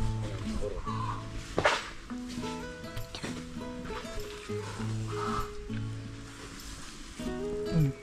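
Chickens cluck repeatedly nearby, with short rhythmic calls and occasional louder squawks over a steady background.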